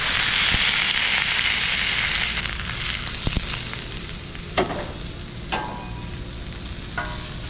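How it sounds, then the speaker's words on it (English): A smashed beef burger patty sizzles loudly on a bed of frying onions, a steady close hiss with a few scattered pops and scrapes. "while your burger's cooking"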